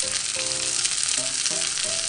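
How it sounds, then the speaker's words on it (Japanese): Chicken pieces sizzle steadily in a small 16 cm frying pan, a dense continuous hiss with faint tonal squeaks rising over it. "そしたらね、鶏肉を焼くよ。"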